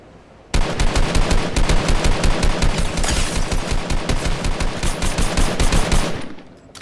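Sustained SMG fire in Fortnite, a loud, rapid stream of shots that goes on for about six seconds and then cuts off, heard alone.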